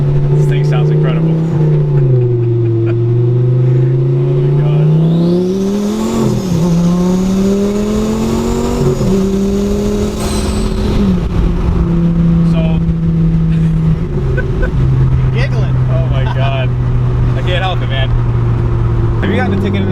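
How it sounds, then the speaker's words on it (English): A 1,040 horsepower Lamborghini Gallardo engine drones loudly and continuously from inside the car, its pitch climbing and dropping through several gear changes, with people talking over it throughout. "This thing sounds incredible."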